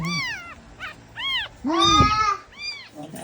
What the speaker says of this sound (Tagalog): Tomtom, sige dede kang baby kitty.